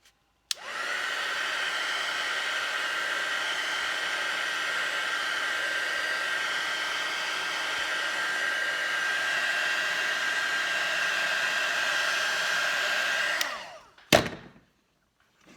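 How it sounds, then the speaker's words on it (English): Heat tool blowing hot air over flowers made from baby wipes: a steady, loud airy roar with a faint whistling tone that runs unbroken for about thirteen seconds, then cuts off with a brief click. "So I'm going to turn the heat tool on again."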